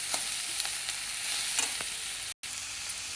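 Tomatoes fry and soften in a pan, giving a steady, moderately loud hiss with a few soft stirring taps, briefly cut by a split-second dropout.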